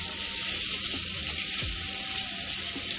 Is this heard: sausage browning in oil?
yes